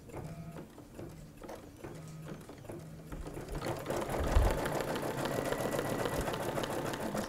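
An embroidery sewing machine stitches the outline of a dangler design with a rapid mechanical chatter and whirr. It runs steadily and grows busier and louder partway through.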